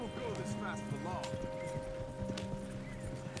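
Horses gallop in Red Dead Redemption 2, with steady clip-clop hoofbeats and a whinny over constant ambient game sound, while a voice talks throughout.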